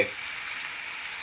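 Fish for tacos sizzles and fries in a hot pan, a steady close crackling hiss with no talking.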